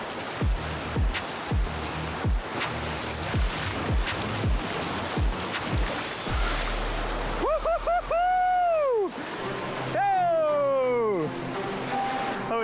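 Ocean surf breaking on a beach where jungle meets the sea during tarpon fishing, a constant wash overlaid by regular ticking and then loud rising and falling mechanical whines.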